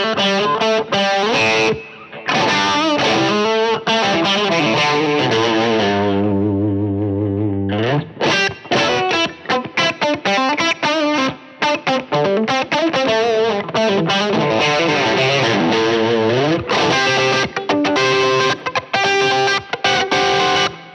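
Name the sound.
guitar overdrive effect with reverb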